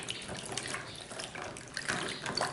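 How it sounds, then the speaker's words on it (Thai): Fresh chili peppers rinsed under a running kitchen tap, a steady close splashing stream of water with small irregular spatters, moderately quiet and with no speech. "เสร็จแล้วเราก็ล้างพริกให้สะอาดนะคะ"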